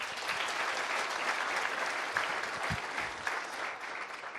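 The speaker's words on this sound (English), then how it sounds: "Please, let's all give them a round of applause" A room full of seated business leaders at a BNI East Africa panel event claps for the panelists, a steady, dense wash of applause running evenly throughout with no break.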